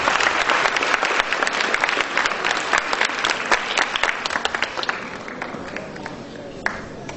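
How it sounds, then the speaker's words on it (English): An audience applauds students at an annual appreciation day, a thick, continuous round of clapping with crisp individual claps that thins out toward the end. "let's give them a big round of applause for their wonderful performance"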